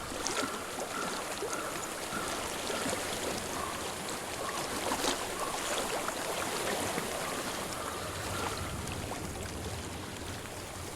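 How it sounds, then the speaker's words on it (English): Steady flowing stream water in the video game Hellblade: Senua's Sacrifice, a continuous rushing wash filling the scene at even loudness with no talk over it. "I hear water."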